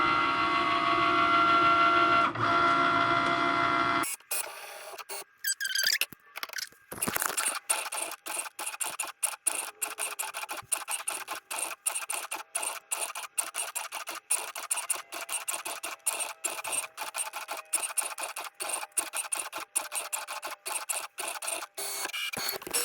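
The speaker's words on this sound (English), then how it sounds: "I'm going to load my scoring stylus and press go." A Cricut Maker scores paper with a stylus: a steady motor hum gives way to a long run of rapid, irregular clicking and whirring as the carriage moves, continuous and close, with no voices.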